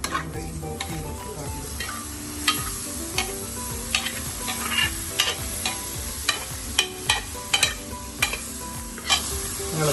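Boti curry of cooked offal is stirred in a pan. A steady close sizzle runs underneath, cut by repeated sharp scrapes and clinks of the spoon against the metal at an uneven rhythm, with no voices.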